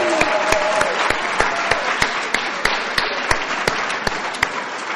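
Audience applause at a recovery meeting speaker event, steady clapping from a room of people with a few distinct sharp claps punctuating a continuous patter, lasting several seconds without talk.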